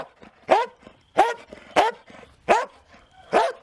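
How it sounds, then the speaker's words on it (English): An 11-year-old female dog barks while being teased with a toy: five sharp, loud barks come close by in an even rhythm, spaced roughly half a second apart, with no talking. "She's an 11-year-old dog."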